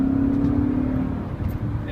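A 2000 BMW M5's V8 gives a low, steady drone from inside the cabin, rising slightly and then easing during a downshift; fairly loud and close, with a bit of road noise.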